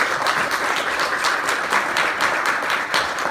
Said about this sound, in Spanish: Démosle un fuerte aplauso, Señor.